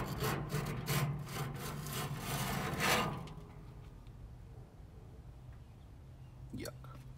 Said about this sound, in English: So I'm gonna get this final thing scraped down